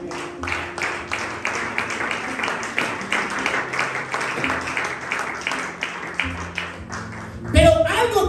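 A church congregation claps together during a Spanish-language sermon, steady rhythmic clapping over several seconds with a preacher's voice continuing over it.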